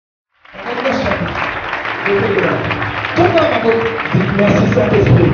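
A church congregation bursts into loud, sustained applause after a brief silence, clapping densely and building slightly, with voices mixed into the crowd sound.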